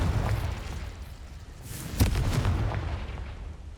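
A Confringo spell goes off in the Hogwarts Legacy video game as a deep, rolling explosive rumble, with a sharp blast cracking out about halfway through and low debris-like rumble continuing afterward.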